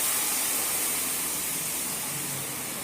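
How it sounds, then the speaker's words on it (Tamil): Water poured into a hot pan while making upma gives a steady, loud broadband hiss and rush of steam that holds evenly throughout with no voice over it. "நெக்ஸ்ட் 1 கிளாஸ் வாட்டர் ஊற்றிக்கலாம்"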